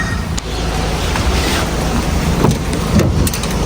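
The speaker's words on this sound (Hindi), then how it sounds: "ये है जी बारिश का सिलसिला" Steady heavy rain falling outdoors on a cold day, a dense continuous hiss with some wind noise on the microphone and a few sharper drops and splashes, fairly loud and without talk.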